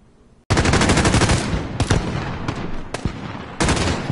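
Rapid automatic gunfire in a military shooter game, loud and close, in dense sustained bursts that break off briefly and resume, with no voices.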